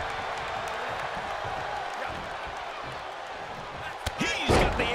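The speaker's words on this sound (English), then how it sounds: "then slamming their face down." A wrestler's face is slammed down in a WWE video game, a sudden heavy thud near the end that lands over steady crowd noise and commentary.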